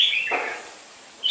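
A seven-month-old red-whiskered bulbul gives brief, bright chirping calls, one descending note followed by the start of another, close and clear against silence.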